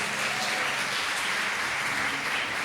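A church congregation at IEAB Limeira applauds together in a steady, dense burst of clapping that fills the room at an even level from start to finish.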